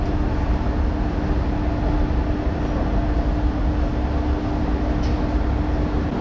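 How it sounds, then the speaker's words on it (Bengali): The Mumbai Mail 12321 passenger train runs along steadily, heard from inside as a constant loud rumble and hiss with a low steady hum and no voices. "যত বেলা বাড়ছে তো ট্রেনটা আস্তে আস্তে স্লো হচ্ছে।"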